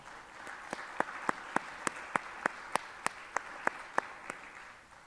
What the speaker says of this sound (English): So can we give a round of applause to our esteemed panel?